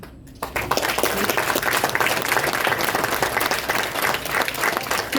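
Loud, dense audience applause at a Hindi poetry recital (kavi sammelan), bursting in after a short quiet moment and continuing as sustained, close clapping throughout.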